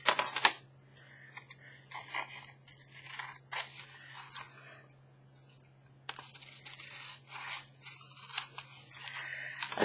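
Scissors snip through paper while making a recycled envelope window pocket, a series of crisp, close cuts in irregular bursts with quiet pauses of paper handling between them.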